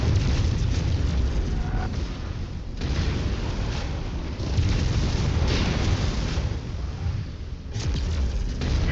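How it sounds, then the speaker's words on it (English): In the MechWarrior 5 arena on Solaris 7, ammunition cooks off in a long, loud, rumbling explosion, with rolling booms and crackling bursts that swell and ebb over several seconds. "Explosive situation. Ammo cooks off, there's chaos in the arena."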